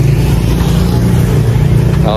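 Motorized tricycles pass along a street with a steady, loud low engine drone and rattle that holds throughout, with voices faintly underneath.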